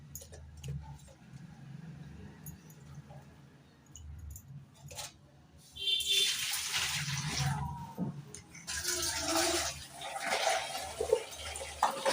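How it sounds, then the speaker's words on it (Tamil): Water splashes and pours while something is rinsed and washed in several changes of water, soft and intermittent at first, then a louder, steady rush of running water from the middle onward. "நாலஞ்சு தண்ணியை வச்சு நல்லா கழுவிடணும்"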